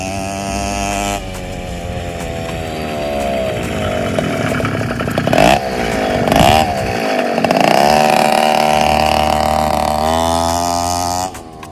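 Tuned two-stroke Mobilete 75 moped engine running close and loud, with a buzzing, raspy tone that rises and falls through several revs and throttle blips before cutting off.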